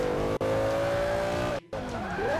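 Tires squealing from a drifting car in the racing video game Forza 5, a loud, sustained whine with engine drone underneath, briefly cut out near the end before resuming.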